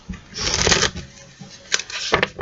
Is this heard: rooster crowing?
no